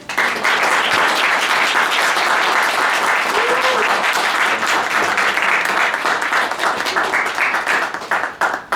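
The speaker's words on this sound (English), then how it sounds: "Let's give these two a round of applause" Sustained audience applause fills a panel discussion on the climate crisis and ecological justice at a peace and justice summit, dense steady clapping that holds loud throughout and thins slightly near the end.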